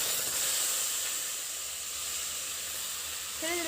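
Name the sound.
boiled taro stalks added to a hot pan, hissing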